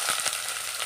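Sliced onion fries in coconut oil in a pan, a brief, close, continuous sizzle with a faint stirring scrape near the start.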